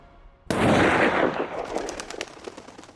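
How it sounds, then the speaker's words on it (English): A single sharp gunshot cracks out after a brief quiet, then a long rolling echo decays across several seconds. "When we hear the gunshot"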